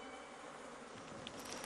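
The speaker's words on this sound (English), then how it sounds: "The smell of the smoke makes the bees return to the hive and gorge themselves on honey." Bees swarm around a wild hive in a volcanic forest after smoke is applied, a dense continuous close buzzing drone with no talk.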